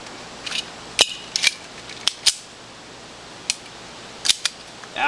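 A Mossberg 590 pump shotgun is dry-fired on snap caps, giving sharp isolated metallic clicks and snaps spread irregularly through the clip, with brief pauses between them and no talking.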